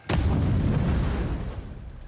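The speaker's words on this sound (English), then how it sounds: "Maybe I can throw a grenade?" A grenade explodes in the Avowed video game: one sharp, loud blast followed by a dense, rolling rumble that slowly fades over about two seconds.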